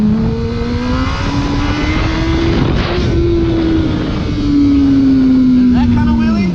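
A motorcycle engine revving during a clutch-up wheelie: a loud, steady, close drone whose pitch climbs slowly, then swells a little louder near the end.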